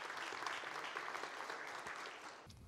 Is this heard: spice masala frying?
no